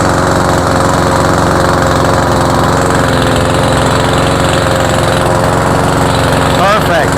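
Cub Cadet self-propelled mower engine running steadily and loudly up close with its drive engaged, a constant rumbling drone, while a voice speaks briefly.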